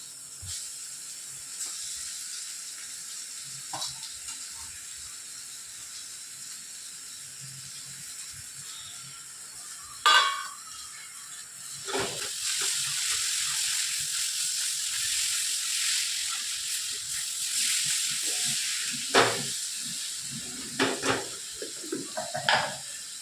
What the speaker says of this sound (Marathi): आता यामध्ये टाकणार आहे मी भरीत.